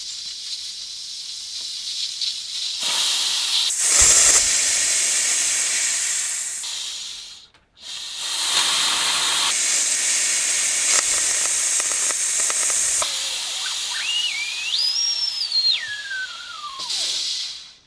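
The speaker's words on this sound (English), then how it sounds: "we're going to crack the lower bleed valve just a hair on this filter, and then we're going to crack the bleed valve on the compressor" Compressed air hissing loudly from cracked bleed valves on the filter and compressor of an AEA 7000 psi air compressor, a long steady hiss that cuts out briefly, resumes, and later carries a wavering whistle.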